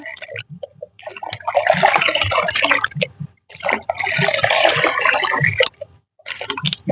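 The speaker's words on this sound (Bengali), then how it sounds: "তো এইভাবে ভালো করে কিন্তু জলটা গুলিয়ে নেবেন।" Humic acid stirred by hand into a bucket of water for citrus plant care, two long bursts of sloshing, swirling water with a short pause between, close and fairly loud.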